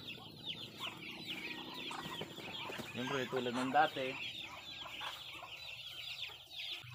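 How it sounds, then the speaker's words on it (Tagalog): Pet ducks on a farm chatter and quack in a busy, overlapping flock while being fed, with a person speaking briefly among them. "papakainin muna natin itong ating mga alagang bibe"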